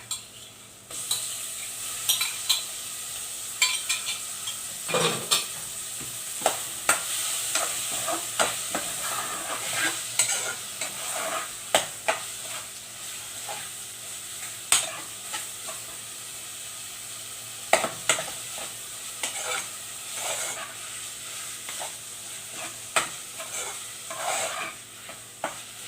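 Chicken breasts seasoned with paprika fry in a pan and are stirred, giving a steady close sizzle under repeated scraping and clicking of the utensil against the pan, with no voices.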